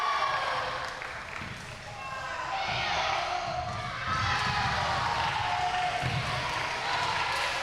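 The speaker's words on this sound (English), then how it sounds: "And the crowd, they are going crazy for the home side." Spectators at a school boys' league sepak takraw championship cheer and roar in an indoor hall, the noise swelling in waves beneath a commentator talking throughout.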